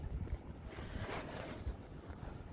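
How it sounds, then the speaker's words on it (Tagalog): Strong wind gusting through a snowstorm, a steady rushing roar with low buffeting rumble against the microphone, fairly faint and continuous with no voices. "Ayun, nanlakas ng hangin."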